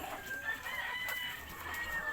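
Backyard chickens cluck and murmur in a steady, moderately faint chorus, with a rooster-like call drifting through.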